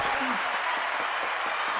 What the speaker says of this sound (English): You get a round of applause too.